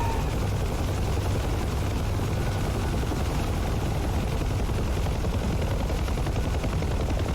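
A Huey helicopter in the DCS combat flight simulator, a dense steady rotor and engine roar that fills the whole stretch without a break, loud and close with no other sounds.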